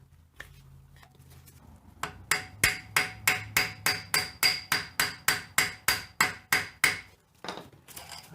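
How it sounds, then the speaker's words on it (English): A hammer repeatedly striking a part into a Toyota axle during a rebuild, about sixteen sharp metallic blows in an even, quick rhythm, close and loud, after a brief quiet lead-in. "And then with a hammer, hammer it in."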